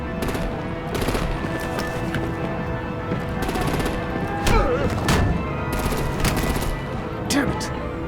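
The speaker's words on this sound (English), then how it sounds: "Break out the artillery and disable their vehicles!" Gunfire and artillery in the Batman: The Enemy Within game come as repeated sharp bursts and booms scattered across a noisy battle scene, with voices talking underneath.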